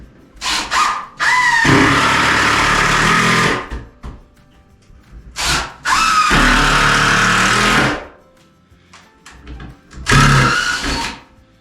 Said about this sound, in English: So there's a stud behind this mark, so I'm going to put a screw right here.